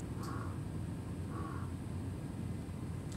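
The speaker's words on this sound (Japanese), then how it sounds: "カラス" A crow caws twice from some distance outdoors, two short harsh calls about a second apart, over a low steady background rumble, with no talk.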